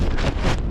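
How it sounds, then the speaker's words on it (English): Strong gusting wind buffets the microphone on an exposed mountain trail during an Appalachian Trail thru-hike near Mount Rogers, a loud, continuous roar with surging gusts and no clear talk. "It was so windy."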